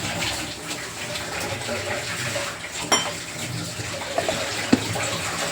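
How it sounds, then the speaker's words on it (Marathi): Water splashes steadily into a mixer jar, a continuous running pour with a few small clinks near the end. "हे मिक्सरचं भांड्यामध्ये थोडं पाणी टाकून घेऊया"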